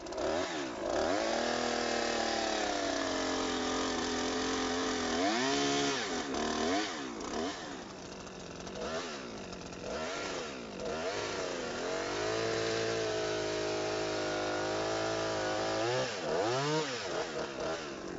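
A chainsaw cuts the felling notch in a standing tree, its engine running loud and close for the whole stretch, with the pitch dipping and rising as the chain bites into the wood.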